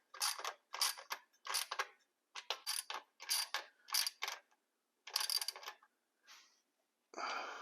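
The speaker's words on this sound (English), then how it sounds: "Then we tighten these bolts down right here" Bolts on a Lokar shift linkage are tightened with a ratchet, producing a series of crisp, close clicking bursts in quick groups separated by short pauses, in an otherwise quiet space.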